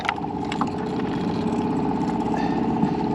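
A boat's outboard motor hums steadily nearby while trout fishing on a North Idaho lake, an even mid-pitched engine drone with faint knocks and splashes over it.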